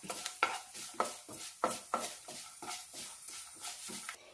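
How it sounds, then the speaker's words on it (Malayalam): Sesame seeds and rice roasting dry in a pan for traditional unniyappam, with light crackles and popping under repeated scraping stirs in a steady rhythm, close and fairly quiet. "ഇപ്പം എള്ള് പൊട്ടാൻ തുടങ്ങിയിട്ടുണ്ട്"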